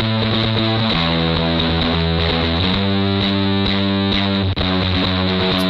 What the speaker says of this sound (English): So let's hear it with just the fuzz.